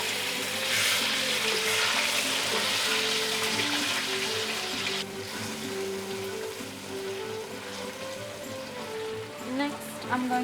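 Cinnamon, star anise, cloves, cardamom and chili paste sizzle in hot olive oil for beef rendang, a constant crackling hiss that softens partway through, with someone talking and background music.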